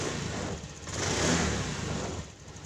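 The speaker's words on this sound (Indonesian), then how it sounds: "motor menyala seperti sedia kala" A Honda automatic scooter runs steadily just after being started, a mid-pitched engine hum with a slight rise and fall in revs, close by with no talking.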